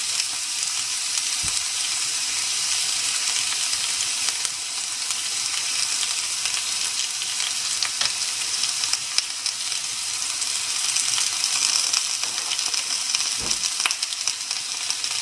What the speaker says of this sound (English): I'm gonna put green chili on grilling pan